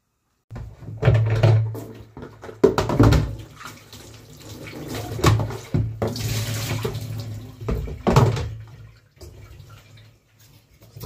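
A kitchen tap runs in uneven bursts while food is washed under it, with splashing water, brief stops and a few soft knocks from handling in the sink.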